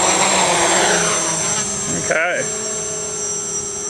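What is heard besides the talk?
Box Quad STEM kit quadcopter motors under throttle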